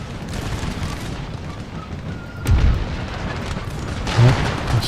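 Battlefield booms from an Empire Total War siege of Montreal, with two heavy thuds of cannon fire rising out of a steady rumble of musketry and distant combat noise.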